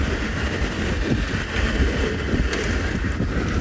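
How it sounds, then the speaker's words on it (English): Strong wind buffets the microphone during a morning safari drive in South Africa, a constant deep rumbling roar that fills the whole stretch with no other sound. "It is quite windy here."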